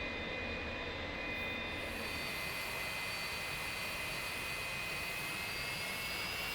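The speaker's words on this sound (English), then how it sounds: "So let's start running the engine up slowly, give it lots of time to catch up." An F-86 Sabre's jet engine spooling up, a loud continuous roar with a rising high whine that holds steady and dense throughout, no voices.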